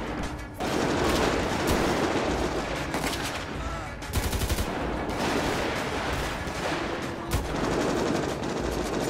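Sustained automatic gunfire fills a shootout in the GTA 5 police special operations mod, with dense overlapping bursts and booms that run almost without pause and stay loud throughout.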